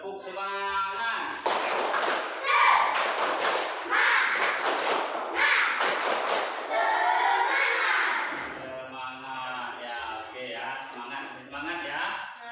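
Children in a classroom perform a rhythmic spirit clap, with quick sets of hand claps mixed with their chanting voices for several seconds before the sound settles into softer talk.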